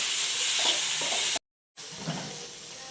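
Onion, ginger, garlic, chili, curry leaves and tomato sizzle steadily in a hot pan, with occasional stirring scrapes and one short cut to silence partway through.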